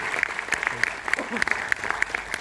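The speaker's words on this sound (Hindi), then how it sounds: "ताली को बजा दो यार" Scattered, thin applause from an audience at a women's network-marketing business talk, sparse claps rising unevenly for a couple of seconds under a steady hiss and murmur of the hall.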